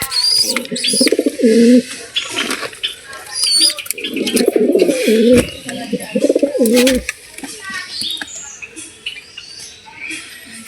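Pigeons cooing close by in a loft where the young birds have died, with several bursts of low throaty coos separated by pauses, mixed with rustling, wing flutters and some short bird chirps.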